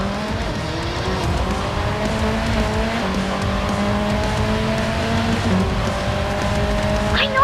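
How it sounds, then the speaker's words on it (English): Race car engine in a mobile racing video game revving loudly and steadily through a straightaway, with sustained engine tones shifting pitch and a brief tire squeal, close and continuous throughout. "Punch the throttle and let the engine roar."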